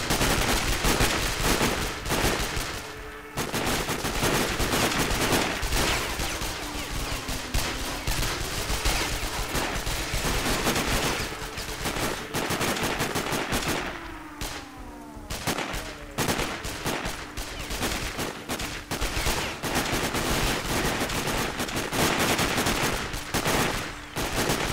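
Sustained gunfire from the Sniper Ghost Warrior video game, with dense, nearly continuous bursts of shots at a loud level over busy game sounds, with a brief lull partway through.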